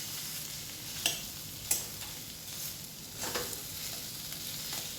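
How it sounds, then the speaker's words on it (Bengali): Taro pieces being stirred in a frying pan with a soft steady sizzle underneath and a few sharper scrapes and clinks of the utensil against the pan, close and fairly quiet. "আর নাড়ছি আমি কচুটাকে।"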